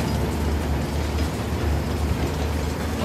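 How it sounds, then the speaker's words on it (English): In the video game Uncharted: The Lost Legacy, a train engine runs with a dense, loud, continuous rumbling roar and clattering mechanical noise, steady throughout. "That's definitely the engine."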